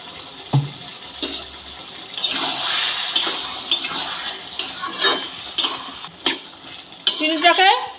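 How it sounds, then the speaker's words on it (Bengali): Sugar being stirred into spinach stalks cooking in a pan, with repeated scraping and clinking strokes over a soft steady sizzle, a few sharper knocks scattered through, and brief voice sounds near the end. "চিনিটাকে ভালো করে মিশিয়ে দেবো।"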